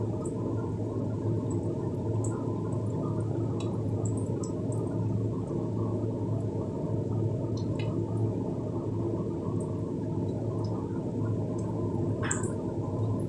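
Salted water with turmeric in a cooking pot bubbles at a steady boil, a continuous low churning rumble with occasional small pops and drips close by, no voices.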